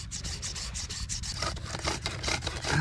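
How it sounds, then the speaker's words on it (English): A wooden bow drill spindle rubbing against a wooden fireboard during a survival fire-starting attempt, making a steady, rhythmic back-and-forth scraping grind, close and loud throughout. "let's give this bow drill a red hot crack"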